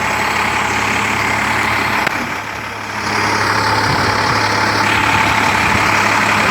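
A fire truck engine runs at a steady idle, close and loud, holding a constant low rumble throughout with a brief dip partway through.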